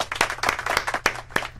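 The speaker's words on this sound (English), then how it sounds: "Let's give a round of applause" Several sharp, close hand claps ring out in an uneven rhythm, a small burst of applause over a short stretch during a comedy news show.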